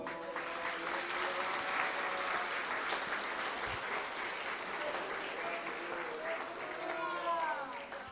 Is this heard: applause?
yes